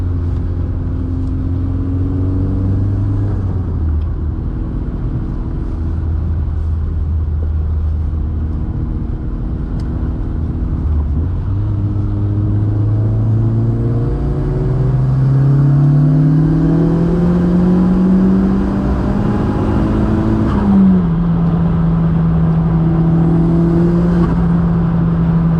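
A VW Mk2 with a 1.8T engine and a full 63mm exhaust pulls hard through the gears, its loud engine note rising in pitch with each gear, dropping at the shifts, then climbing again.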